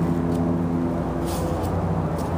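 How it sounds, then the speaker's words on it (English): Outdoor road traffic, a steady low rumble of passing vehicles with a faint hiss, continuous and moderately loud with no talking. "I'm outside, so you may hear traffic"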